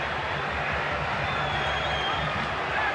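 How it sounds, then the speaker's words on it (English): A stadium crowd at a USA vs Brazil football match roars in a steady, dense wall of cheering that holds loud for the whole stretch, with a commentator's voice faintly mixed in. "that one brought the crowd to their feet"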